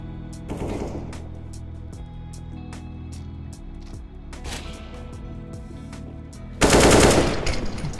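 Gunfire from Counter-Strike: Global Offensive competitive play, with bursts of automatic fire and single shots cracking over a steady game ambience, ending in a loud close blast near the end.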